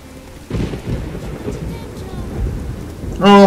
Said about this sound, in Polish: A znowu ten deszcz pada, no bez przerwy nic, tylko pada i pada.